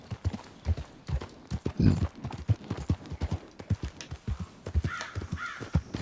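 Horse hooves clip-clop in a steady, fairly close rhythm during Red Dead Redemption 2 gameplay, with a crow cawing amid the hoofbeats and no speech over them.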